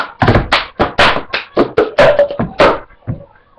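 Cup song rhythm from the Pitch Perfect routine: hand claps alternating with cup taps and thunks on a surface, a crisp, close, steady pattern of about a dozen hits alone, with no talking.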